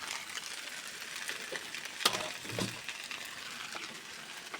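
Broken rice frying in a pan with oil, a quiet steady sizzle. A spoon scrapes and clinks against the pan now and then as it is stirred, with one sharp metallic knock partway through.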